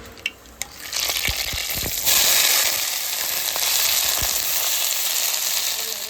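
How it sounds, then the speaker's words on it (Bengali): Onion and green chilies fry together in oil with black cumin, starting with a few sharp taps. A loud, steady sizzle then swells and holds close to the end. "এখানে কেন্দুরির মধ্যে আমি পেঁয়াজ দিয়েছি কাঁচা লঙ্কা দিয়েছি এই যে কাঁচা লঙ্কা একসঙ্গে ভেজে নেব"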